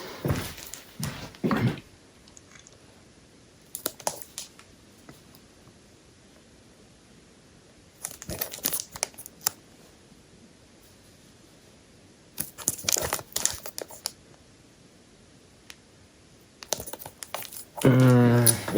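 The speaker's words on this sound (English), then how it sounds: "let's unwrap the cellophane" Cellophane wrap being peeled off an Amouage perfume box made in Oman, heard as bursts of close crinkling and crackling separated by quiet pauses, ending in a louder rustle.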